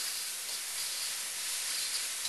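Minced garlic sizzles in hot oil for a Chinese-style house special lo mein, a steady close, even hiss of frying with no talking.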